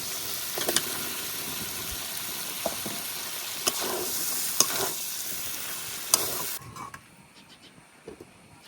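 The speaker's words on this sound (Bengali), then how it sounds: "মাছের মাথাটা সুন্দর করে আমি কষিয়ে নিচ্ছি।" Snakehead fish head and potato pieces fry in a pan with a steady sizzle and hiss, broken by sharp scrapes of stirring at intervals. The sizzle drops off abruptly near the end, leaving quieter frying.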